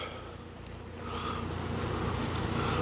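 Honeybees swarm in a brand-new hive fitted with starter wax, a dense steady buzzing that stays close and grows slightly louder partway through, with no voices.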